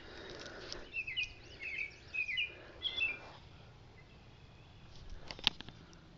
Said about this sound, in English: There's a bird saying hello.